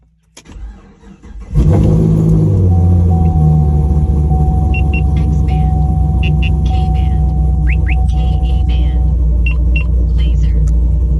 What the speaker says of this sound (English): We didn't have any issues starting the car.